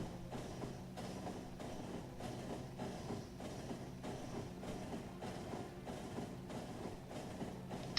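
Video game train from Factorio rolling along rails, a steady mechanical rumble with faint periodic clatter pulses about once a second, continuous and fairly quiet with no talk over it.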